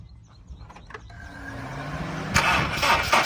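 A 2007 Honda Civic with a 1.8-litre VTEC engine cranks briefly and catches, then settles into a steady idle, faint at first and growing louder and closer.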